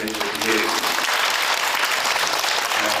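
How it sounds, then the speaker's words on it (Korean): Audience applause at a Korean church presbytery gathering, a dense and steady wash of many hands clapping for about three seconds, with faint speech-like sound underneath. "박수 한 번 부탁드립니다"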